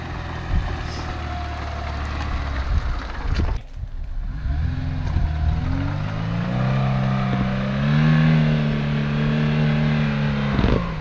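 Lada Niva engine revs hard as its wheels spin on a slope, with a rising, strained growl in bursts that climbs to a sustained high drone.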